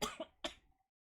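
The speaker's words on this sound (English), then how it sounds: "I know I'm coughing." A person coughs after choking on their own saliva, two or three sharp, close bursts over about a second, with no talk over them.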